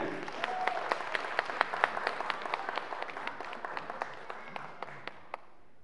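Audience applause greets a duo taking the stage at the Miss Independence 2016 beauty pageant in Ivano-Frankivsk, a steady wash of many hands clapping with sharp individual claps standing out, sustained throughout and gradually thinning toward the end.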